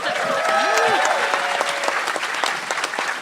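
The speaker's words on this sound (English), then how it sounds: "how do you get a clap like that?" Audience applause at a convention panel on voice acting in videogames, sustained loud clapping from a crowd throughout, with cheering and some voices mixed in.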